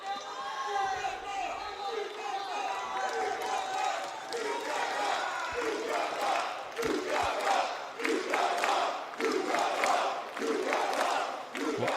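Arena crowd at a TNA wrestling show roaring and chanting steadily throughout, a dense wash of cheering with scattered claps and shouts, loud and close.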